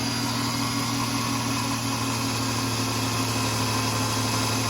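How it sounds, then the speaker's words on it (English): A car engine at high idle after an idle air control valve replacement, running close and steady with a constant droning hum and even vibration throughout, no voices. "It immediately starts, and we have the high idle."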